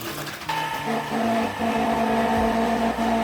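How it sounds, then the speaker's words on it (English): An old ice cream maker packed with ice and salt spins with a loud, continuous motor whine and grinding hum, steady and close, its pitch wavering slightly as it churns. "if you can't tell by that sound, I think this ice cream maker is too old."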